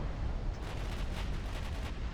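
Torpedoes launching from a warship in the naval battle game Ultimate Admiral Dreadnoughts, a steady dense rumble of heavy booming gunfire filling the background alone, with no voices.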